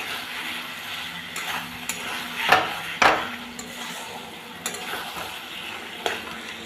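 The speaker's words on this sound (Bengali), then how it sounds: "ভালো করে মশলাটার সাথে আলুটা কষিয়ে নেব" Boiled potatoes stir-fried with spice paste in a pan, with a steady low sizzle and a few sharp spatula scrapes and knocks against the metal, close and alone.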